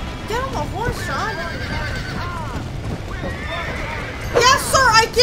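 A horse in Red Dead Redemption whinnies several times with clopping hooves, ending in a louder, close neigh, while a voice talks in the background.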